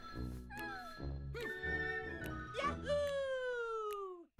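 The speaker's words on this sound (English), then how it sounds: "Look at the kitties. They think I'm one of them." Cartoonish cats meow repeatedly in the Bowser's Fury video game, a string of bright, rising and falling mews one after another, loud and close, over a soft rhythmic game backdrop.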